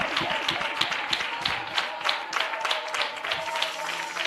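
A church congregation claps together during a sermon, a dense, steady patter of many hands filling the room without a break.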